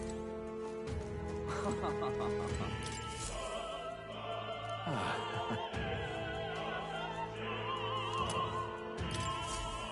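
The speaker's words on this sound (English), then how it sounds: "Birds..." Birds cluck in the video game Metaphor: ReFantazio, with repeated fowl-like calls mixed into busy, layered game sounds and occasional crashes.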